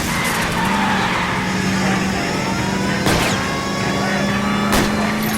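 Tires screech and skid during a car chase in L.A. Noire, a loud continuous squeal over a steady engine drone, with two sharp impacts near the three- and five-second marks and game voices talking underneath.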